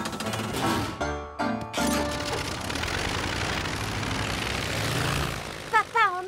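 A cartoon propeller airplane engine drones steadily and loudly through most of the stretch, with a brief dropout early on and a few short squeaky tones near the end.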